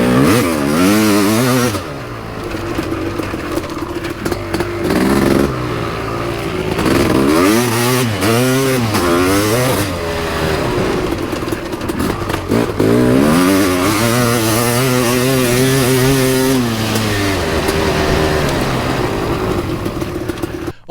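A 1991 Kawasaki KX500 two-stroke dirt bike being ridden, its engine loud and close, revving in repeated surges that climb and drop in pitch, with brief throttle-off dips between bursts.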